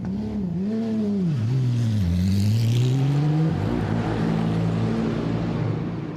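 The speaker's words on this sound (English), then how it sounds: "The Porsche speeds off again." A Porsche race car at a 24-hour endurance race in Dubai speeds off, its engine note climbing through revs, dipping at a gear change and rising again, loud and close then easing away.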